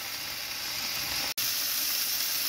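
Beef fillet searing in a hot pan gives a steady, close sizzle and hiss that is cut by a brief dropout midway.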